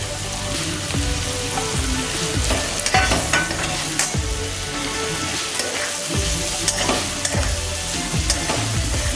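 Chopped tomatoes and onion frying in a pan for a fish curry, a steady close sizzle with repeated scraping stirs running throughout and no talking.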